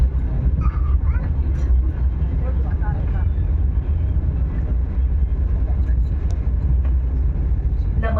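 Interior of a Vande Bharat Express coach in motion between Sainagar Shirdi and Dadar Mumbai, with a steady low rumble and running noise throughout, faint rattles on top and people talking quietly in the background.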